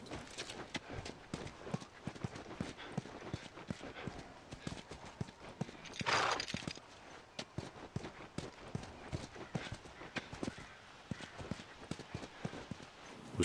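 Horse hooves clip-clop steadily in The Last of Us on PS3, a continuous rhythmic run of hoofbeats close up with a brief louder rush of noise midway, no talking over it.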